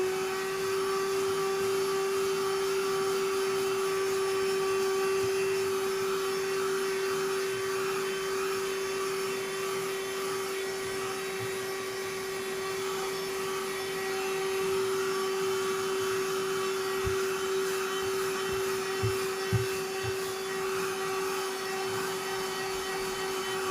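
A Portronics Mopcop dry vacuum cleaner runs with its brush attachment, a steady close motor whine with a strong constant tone that holds throughout, with a few faint knocks near the end.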